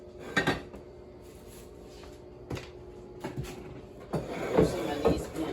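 Dishes and cookware clatter in a home kitchen as someone rummages for a rubber bowl, with several sharp clinks and knocks spread out, a busier cluster of rattling near the end, and a steady low hum underneath.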